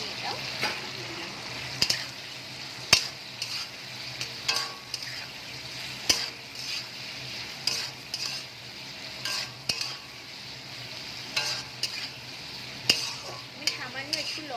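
A soy, tomato and chili sauce mixture sizzles in hot oil while a utensil stirs it, a constant frying hiss punctuated by repeated sharp scrapes and clinks against the pan.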